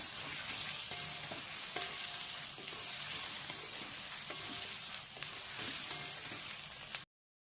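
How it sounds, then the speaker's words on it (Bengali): Cumin seeds and dried red chillies tempering in hot oil, a dense, steady hiss of frying with faint scattered pops and light clinks, close and continuous until it cuts off. "জিরের ফোড়ন, শুকনো লঙ্কার ফোড়ন।"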